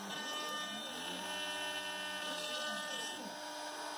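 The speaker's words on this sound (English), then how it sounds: "Here, a 1/4 inch end mill is being used to mill the tenon on one of the pieces." A 1/4 inch end mill cuts a tenon on a curved piece of solid Padauk hardwood for a wooden geared clock stand, making a steady, close, high-pitched machine whine that rises and falls slightly as the cut progresses.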